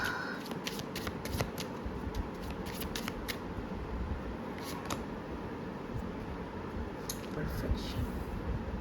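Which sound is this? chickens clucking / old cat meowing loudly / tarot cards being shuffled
tarot cards being shuffled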